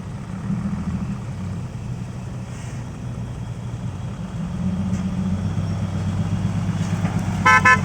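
A car engine idles and rumbles steadily at close range, growing slightly louder as the vehicle pulls out, with two short horn toots near the end.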